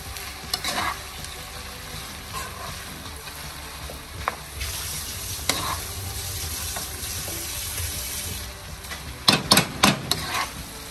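Ham, bacon and mushrooms sizzle gently in a pan while being stirred, with scraping utensil strokes and a cluster of louder clanks near the end.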